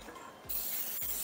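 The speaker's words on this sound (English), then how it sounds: "I'm just gonna spray this equally all around." Nonstick baking spray hissing from an aerosol can into a cake pan, two short close bursts with a brief pause between them.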